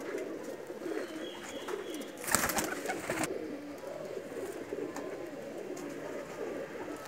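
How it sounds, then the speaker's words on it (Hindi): Soft coos from a Bateray pigeon repeat low and steady against a noisy background, with a brief rustling burst partway through. "ये बटेरा कबूतर है जी"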